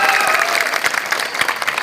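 Audience applause welcomes Sameer bhai at a political party gathering in Aurangabad, a steady dense clapping from a crowd that carries on without a break throughout.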